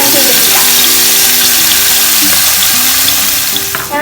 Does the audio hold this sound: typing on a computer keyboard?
no